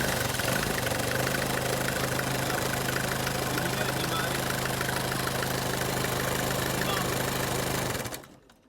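A Mercedes-Benz C220 engine runs at a steady, loud idle with a constant low hum and busy mechanical clatter for about eight seconds, then cuts off abruptly near the end.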